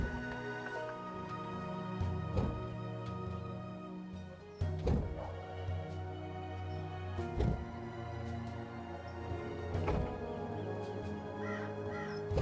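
A talking bird from the video game Dreamfall Chapters gives several loud, harsh caws at regular intervals over a dense, steady layer of game music and ambience.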